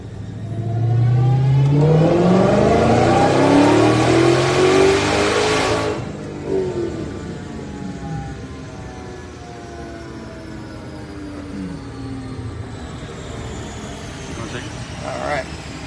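A Dodge Demon 170 engine running on flex fuel revs hard on a dyno, rising in pitch through a loud sustained pull for about six seconds. It then drops off abruptly and winds down, with the engine still whirring at a lower level.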